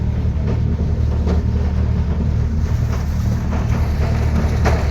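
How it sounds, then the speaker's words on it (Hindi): A tractor rumbles steadily in a rain-soaked crop field, a loud, continuous low engine drone with wind-like noise over it and no voices. "रुक रुक के ट्रैक्टर चलता हुआ, क्योंकि बाल बहुत गीली है।"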